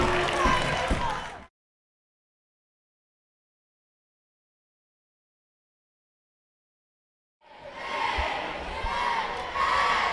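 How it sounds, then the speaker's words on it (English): A packed gym crowd at a boys' high school basketball district tournament roars loudly during a comeback. The noise comes in two bursts separated by several seconds of dead silence. "I can't even hear myself. This crowd just blew up."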